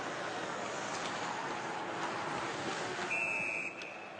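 A referee's whistle at an NHL ice hockey game between the Chicago Blackhawks and Edmonton Oilers sounds once, a short shrill blast lasting about half a second over a broad crowd and arena roar.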